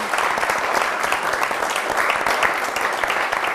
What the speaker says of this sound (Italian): Adesso potete anche fare un applauso, così sembra un po' più colorito il tutto.